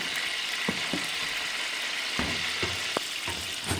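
Green peppers frying in oil on a wood stove, a continuous crackling sizzle with a few sharper pops and clicks from the pan, close and alone.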